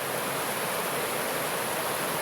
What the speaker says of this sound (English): you can hear the waterfalls the whole way